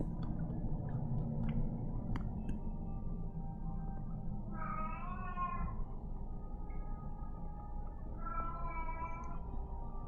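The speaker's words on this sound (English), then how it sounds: "you can hear the cat with a lot of personality meowing in the background" A cat with a lively voice meows twice in the background, two drawn-out calls several seconds apart over a low steady hum.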